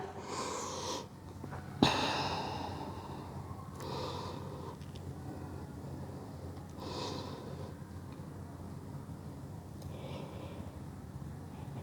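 Slow, deep breaths come during a forward-fold stretch in a mat Pilates session, with soft inhales and exhales about every three seconds in a quiet room.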